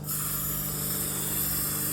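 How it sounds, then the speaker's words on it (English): Water sprays from a nozzle set to shower mode while rinsing a solar panel: a steady, close, continuous hiss that holds even and unbroken throughout, with no talking. "Just lightly spray it and then dry it off"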